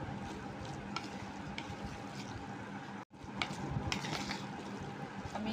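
Gram flour batter for pakoras being mixed and stirred by hand, a steady wet squelching and scraping texture that runs continuously, with a brief pause near the middle before the mixing resumes.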